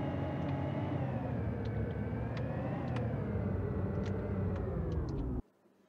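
A car engine in a Unity game hums with a steady, continuous drone whose pitch rises and falls a little as it revs, holding at the same loudness until it cuts off abruptly near the end.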